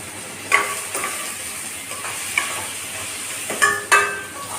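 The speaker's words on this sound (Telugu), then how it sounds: "కరివేపాకు కూడా వేసేస్తున్నాం. వేసి కలపాలి." Curry leaves frying in a hot pan for tomato curry, with onions cooking alongside: a constant loud sizzle, broken by a few sharp crackles and spoon scrapes as they are mixed.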